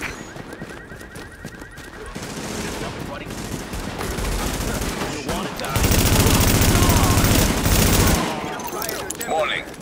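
Sustained gunfire from the post-outbreak New York shooter Tom Clancy's The Division, dense rapid bursts building into a loud continuous fusillade mid-clip before easing off.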